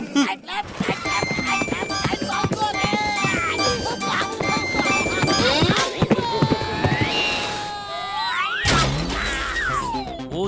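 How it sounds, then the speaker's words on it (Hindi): A racehorse gallops in an animated cartoon race with quick, rhythmic clip-clop hoofbeats. Bright music, sweeping cartoon sound effects and a whinny-like cry play over them. "वो दिलावर खान का घोड़ा है रफ्तार"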